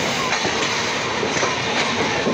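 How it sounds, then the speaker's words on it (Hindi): Indian Railways Kerala Express running between Thiruvananthapuram and New Delhi, heard as a loud, steady rumble of rail cars with faint rhythmic wheel clatter and no talking. "ये ट्रेन है तिरुवनंतपुरम नई दिल्ली यानी केरला एक्सप्रेस से हमारी मुलाकात हुई है।"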